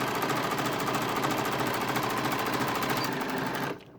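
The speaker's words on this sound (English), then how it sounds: "Back tack at the end." A sewing machine stitches a seam on a hood, its rapid needle clatter running loud and steady for nearly four seconds before stopping abruptly.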